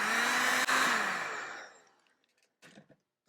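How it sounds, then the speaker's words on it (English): Heat shrink tubing is shrunk over a charger connector with a loud, close blowing whoosh that runs steadily, then winds down and fades out, followed by a few faint handling clicks. "we can clean this up just a little bit more with an extra piece of heat shrink that can squeeze over this whole connector"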